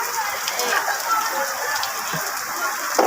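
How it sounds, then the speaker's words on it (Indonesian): Heavy tropical rain pours down in Banda Aceh, a dense, steady hiss of drops hitting surfaces that stays loud and unbroken throughout, with no clear talk on top. "Ini hujan lebat kali Banda Aceh nih."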